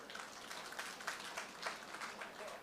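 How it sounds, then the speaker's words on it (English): A faint round of applause from the audience at a project launch ceremony in Point Fortin, steady scattered clapping from a gathered crowd heard at a distance, low in level. "Please, hearty round of applause to him"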